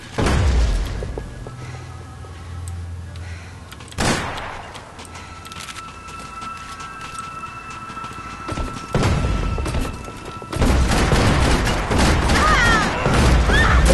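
Gunfire from the video game Max Payne 3 comes in scattered bursts of shots and heavy thuds, loud volleys near the start, around four seconds, nine seconds and the final stretch, with quieter game ambience between.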